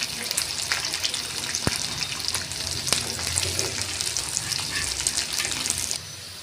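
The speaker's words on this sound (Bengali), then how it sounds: "এবার দিয়ে দেবো বিনস আর ক্যাপসিকাম।" Beans and capsicum frying in a pan for fried rice, a steady, close sizzle with a few sharp clinks, the hiss dropping away near the end.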